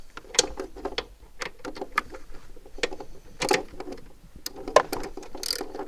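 A 14mm socket on a ratchet loosening a hex bolt on a Mercedes R129 SL-Class during lift cylinder replacement, a series of sharp, close metallic clicks and ratcheting ticks at irregular intervals, with quiet gaps between bursts.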